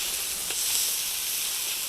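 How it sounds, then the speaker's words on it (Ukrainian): Steady, bright sizzling of onion frying in hot sunflower oil, a constant hiss with a faint pop. "Наливаємо соняшникову олію і закладаю цибульку. Нехай смажиться."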